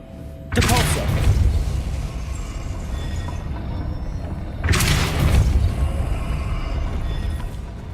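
Depulso spell cast in the game Hogwarts Legacy: two heavy, booming blasts about four seconds apart, each a loud, broad whoosh-thump that fades into a rumbling tail, with continuous game ambience between them.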